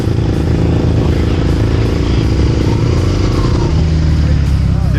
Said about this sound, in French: forcément il y a énormément de motards